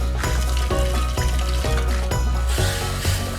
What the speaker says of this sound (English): I love the sound of sizzle.